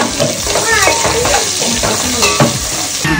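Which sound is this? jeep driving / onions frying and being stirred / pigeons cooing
onions frying and being stirred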